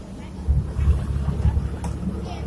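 A passenger ferry on the Chao Phraya River pulls in to dock at a pier, its low engine rumble and churning water steady and close, with wind buffeting the microphone throughout.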